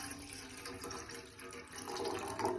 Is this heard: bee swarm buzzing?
no